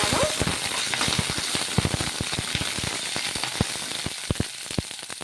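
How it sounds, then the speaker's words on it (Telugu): Peanuts fry in hot oil in a pan while a sabudana breakfast is being cooked, giving a steady close sizzle with dense, irregular pops and crackles throughout. "ఇవి ఆయిల్లోనే కొంచెం ఫ్రై చేసేసుకోవాలి"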